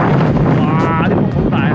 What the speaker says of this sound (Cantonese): 哇，啲風好大啊